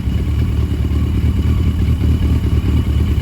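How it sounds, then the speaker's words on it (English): A 1982 Yamaha Maxim XJ750 barn-find motorcycle, clearing out bad fuel, runs with a loud, steady, close engine rumble that holds an even note throughout. "She's running really good."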